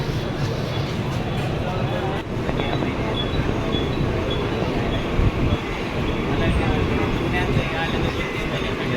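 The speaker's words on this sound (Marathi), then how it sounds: "निघाले ट्रेन." A Borivali-bound Mumbai suburban local train moving along the track, with a steady loud rumble and rattling clatter of the carriages throughout, heard from on board.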